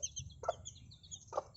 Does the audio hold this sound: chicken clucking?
yes